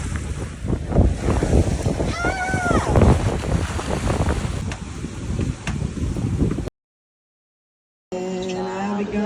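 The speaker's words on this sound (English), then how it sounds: "The wind picked up midday." Strong midday wind blowing outdoors, a loud continuous rush buffeting the microphone, with a brief cut to silence and then more wind.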